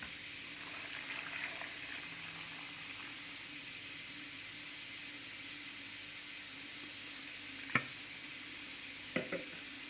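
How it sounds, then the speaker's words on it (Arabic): Water is poured over dates in a cooking pot, giving a steady hissing, gushing stream that runs continuously, with a couple of sharp clinks near the end. "غادي ندير هاد التمر هذا واحد طاوه اولا كوكوط صافي، وغادي نخوي عليه الماء"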